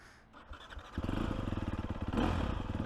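A Sherco 300 SEF 2025 dirt bike is started up, with a scrape of handling first, then the engine catching and settling into a close, steady idle that rises slightly near the end.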